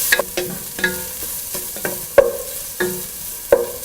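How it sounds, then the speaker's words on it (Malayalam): Onion, carrot and beans sauté for upma in a pan, a steady sizzle broken by rhythmic spatula scrapes and taps about every half second, close and clear with no voices. "ക്യാരറ്റ്, ബീൻസ് എന്നിവയിട്ട് ഏകദേശം 3 മിനിറ്റോളം വഴറ്റുക"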